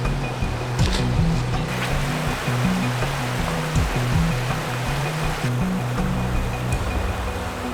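Rushing, churning water at a bubbling river outflow on the upper Khopyor where fishing is done, a loud, continuous roar close by, with no speech.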